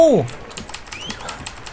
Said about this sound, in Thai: ถ้าใครได้ยินเสียงกดคีย์บอร์ดรัวๆ คือผม